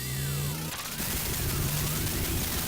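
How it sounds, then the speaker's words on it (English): A Megaman-style explosion from the Pulseman video game: a rapid burst of crackling noise bursts over looping game music, with sweeping tones rising and falling throughout at a steady, loud level. "Has a Megaman-esque explosion."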